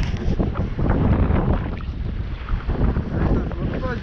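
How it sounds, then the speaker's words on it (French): Strong wind gusts buffet a small sailboat moving at about five knots, a loud continuous roar of wind noise on the microphone mixed with water rushing past the hull, steady throughout with no pauses. "Toujours des bonnes rafales."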